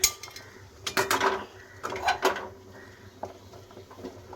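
A spoon stirs boiled eggs and potatoes in a metal cooking pot, giving a few loud clinks and scrapes in short bursts with quieter rattling in between, no talk.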